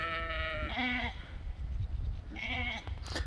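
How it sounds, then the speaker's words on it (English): A lone sheep on a farm, separated from the flock, bleats loudly twice in quick succession, each call long and wavering, over a low rumble of outdoor background noise. "Sheep don't like to be alone. So she's freaking out just a little bit."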